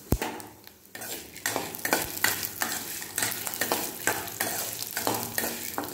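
Ridge gourd chutney ingredients sautéing in a pan, with a loud steady sizzle of frying and repeated scraping and clinking of a spoon stirring against the metal, close up and without talk.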